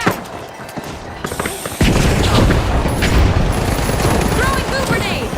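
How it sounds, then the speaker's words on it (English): A frag grenade in The Finals bursts with a sudden loud boom partway through, followed by dense gunfire and rattling battle noise, with voices mixed in. "Throwing a frag!"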